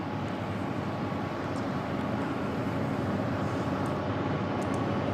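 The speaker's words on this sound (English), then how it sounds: "طائرة التيجاس الآن تستعد للإقلاع لقيام بعروضها الجوية الآن." An HAL Tejas jet waiting near the runway before takeoff at the Bahrain Air Show 2016, a steady broad engine roar with distant air show ambience, constant and moderately loud throughout.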